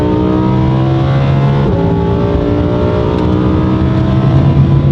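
A fast car's engine revs and pulls hard near Cannes in the south of France, a loud, close, continuous drone with rising and falling tones as it accelerates, no voices over it.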